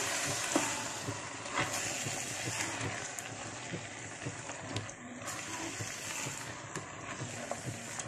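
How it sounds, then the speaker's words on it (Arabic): Freekeh sautéed in a pan with chicken livers, gizzards and spices, a steady close sizzle with frequent scraping and stirring clatter throughout. "هشوح الفريك خالص زي ما احنا بنشوح الرز لحد ما ينشف خالص"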